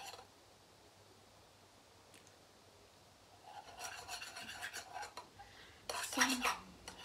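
Slime is mixed in a bowl. After a quiet start, a utensil gives repeated close, soft scraping and rubbing strokes that grow louder toward the end.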